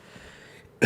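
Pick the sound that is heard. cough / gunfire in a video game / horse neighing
cough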